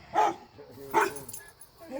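A dog barks twice at a man returning home from a long hospital stay, two sharp close barks about a second apart followed by softer whimpering sounds and low background noise.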